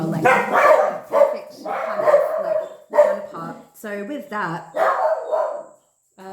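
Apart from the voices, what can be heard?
dog barking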